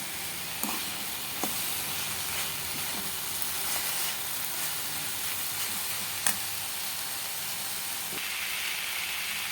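A steady, soft sizzle of filling being sautéed in a pan for viral puffs, with occasional faint clicks of a spoon against the pan over a constant hiss.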